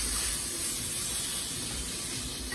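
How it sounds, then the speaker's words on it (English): Red peppers sautéing in a hot pan give a steady, close sizzling hiss that holds evenly from start to finish, with no voices over it. "So just want to build some flavor by sauteing them briefly."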